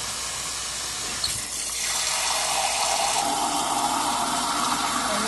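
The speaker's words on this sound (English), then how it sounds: "filling everything up with warm water" Warm water gushes from a tap into a canning pot holding a wire rack, a steady rushing flow that shifts in tone partway through as the pot fills, with no talking.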